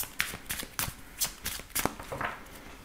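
Soft, quick riffles and slaps of tarot cards being shuffled by hand before a reading, a series of brief, close papery bursts at a quiet level with no talk.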